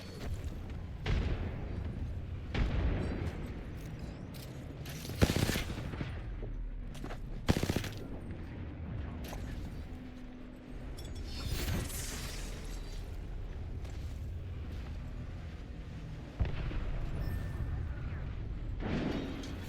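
A frag grenade explosion and bursts of automatic gunfire in a competitive online shooter match, sharp loud blasts and rattling volleys spread across the stretch, with a faint voice now and then.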